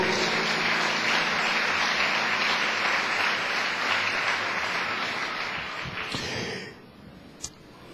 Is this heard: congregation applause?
yes